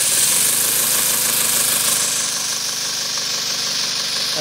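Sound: twin cylinder double acting steam engine running on compressed air

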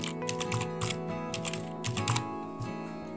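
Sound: typing a password on a computer keyboard

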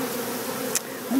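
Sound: honey bees buzzing during colony removal from a wall

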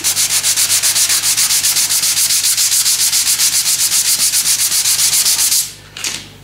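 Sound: sanding down a low spot during Bridgeport machine repaint

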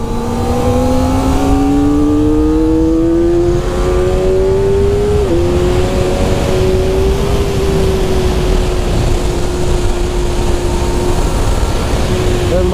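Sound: Kawasaki ZX400RR motorcycle riding a track lap

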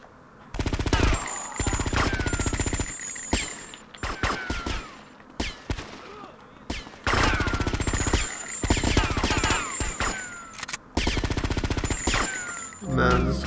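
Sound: gunfire from a gun in the video game GTA Vice City

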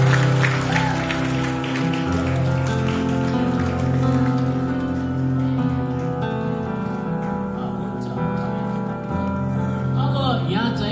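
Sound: wedding guests applauding

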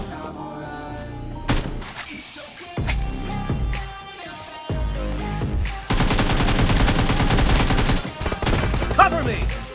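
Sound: gunfire in the video game BGMI

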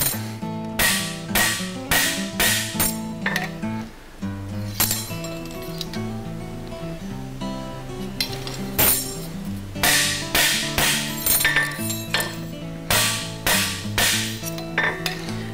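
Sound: hammering a steel horseshoe to shape

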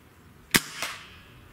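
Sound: 30 caliber air rifle shot

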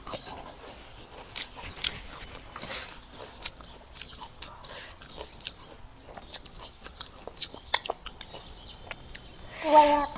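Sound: eating bamboo shoot curry, chewing

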